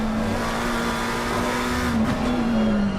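GT3 race car on an onboard lap at Suzuka in a racing video game, a loud steady engine drone holding one pitch with a slight dip and rise, no voices.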